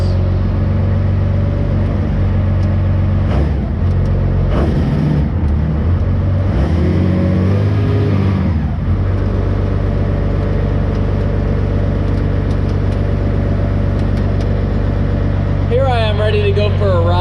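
A monster truck engine rumbles loud and close throughout, surging and revving in several waves, with speech over parts of it.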